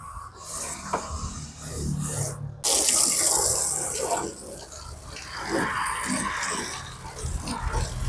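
Water sprays from a newly invented car-washing device onto a car in a steady close hiss that surges louder partway through and then keeps rushing without a break.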